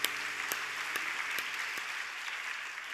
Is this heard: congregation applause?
yes